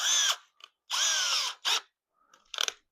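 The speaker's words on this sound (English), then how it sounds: "I'll get this real fancy Bauer unit from Harbor Freight" Bauer power drill from Harbor Freight drilling holes while building a welding table: three close, loud whining bursts with the motor revving up and spinning down, separated by short silent gaps, plus a final rougher burst.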